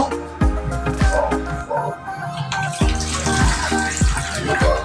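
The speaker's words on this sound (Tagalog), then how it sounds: "Tapos lagyan natin ng konting water kasi palalaputin po natin yung ating munggo" Water is poured into a pot of cooking mung beans for a sauteed monggo dish, a steady close splashing pour with gurgling bursts and clinks throughout.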